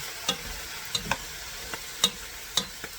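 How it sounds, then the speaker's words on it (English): Cabbage tossed in a hot pan with bacon fat over a high flame gives a faint sizzle, punctuated by several quick scraping knocks as the pan is shaken. "you're going to keep tossing it, and it's going to get that colored green on it"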